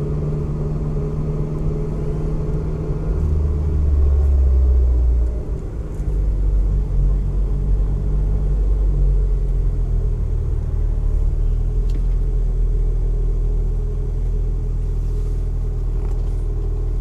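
Motor vehicles idle and creep through a traffic jam in the town of Santa Cruz, St. Elizabeth, Jamaica, with a steady low engine rumble heard from inside a car and no talking.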